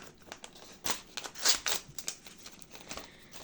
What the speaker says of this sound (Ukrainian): далі давайте відкриємо якийсь ось такий пакетик